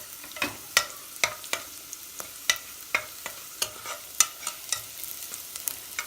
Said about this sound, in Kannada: ಇದರಲ್ಲಿ ನಾವು ಸೈಡಲ್ಲಿ ಈರುಳ್ಳಿ ತಳ್ಳಿಬಿಟ್ಟು ಲವಂಗ, ಚಕ್ಕೆ, ಏಲಕ್ಕಿ ಅಷ್ಟೂ ಅದ್ರ ಜೊತೆ ಫ್ರೈ ಮಾಡ್ಕೊಳ್ಳೋಣ